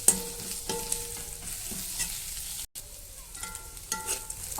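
Spiny gourd being stir-fried with softened onions in a pan, with steady close sizzling and intermittent scraping stirs throughout, briefly dropping out midway.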